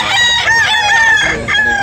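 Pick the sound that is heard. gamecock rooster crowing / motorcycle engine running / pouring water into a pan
gamecock rooster crowing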